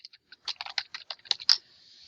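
Part title being typed on a computer keyboard, a quick run of about a dozen light key clicks ending in a firmer tap, close and quiet with no talk.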